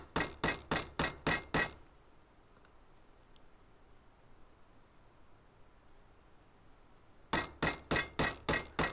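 A hammer taps a one-way bearing into place in two quick bursts of about six sharp, evenly spaced metallic knocks each, close and crisp, separated by several seconds of near silence.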